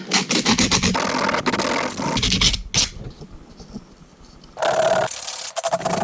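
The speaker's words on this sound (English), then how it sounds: "so now actually I want to hit some sandpaper, clean those edges up a little bit more" Aluminum angle edges on a 1/12 scale RC trailer build are sanded by hand with sandpaper, giving loud close rasping scratches in quick back-and-forth strokes, pausing briefly midway before the scraping resumes.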